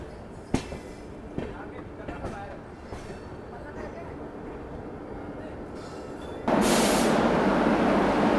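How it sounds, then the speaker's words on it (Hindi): The Bharat Gaurav tourist train pulls into Agra Cantt station, a low rumble with a few clanks and knocks before a loud hiss of air bursts out near the end, heard up close amid station noise. "बिफोर टाइम अपनी भारत गौरव टूरिस्ट ट्रेन यहाँ पहुँच रही है"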